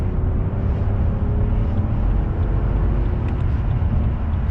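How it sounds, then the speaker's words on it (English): A straight-piped BMW V12 limousine engine roars steadily under heavy acceleration on a motorway, a deep, continuous low growl close up with road and wind noise blended in. "It's got a really nice sort of deep growl to it."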